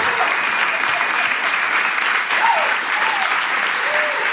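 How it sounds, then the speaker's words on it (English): A hackathon closing-ceremony audience applauds the announced winning team: loud, dense clapping and some cheering fill the room continuously, with a few faint voices calling out beneath. "Let's keep clapping for Driving Change."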